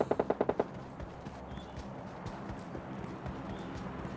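A quick burst of rapid gunfire opens, followed by scattered footsteps and faint shots in the distance.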